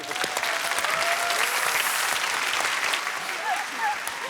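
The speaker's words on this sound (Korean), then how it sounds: "박수 한번." Studio audience at a Korean TV show breaks into a short round of steady applause, a dense, even patter of clapping at moderate volume with a few murmured voices underneath.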